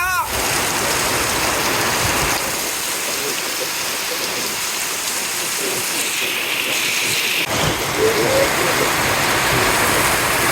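Heavy rain pours steadily over the open wetland of a haor area in Bangladesh, a dense continuous hiss close around, with voices briefly audible through it.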